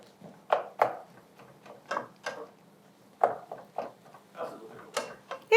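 A utensil stirs beef in a pot for crockpot vegetable beef soup, giving close, soft scraping and knocking strokes in a loose, uneven rhythm, with no talking.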